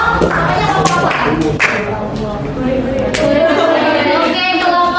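A high-school class claps for a group presentation: scattered, uneven hand claps near and far under lively chatter from the students.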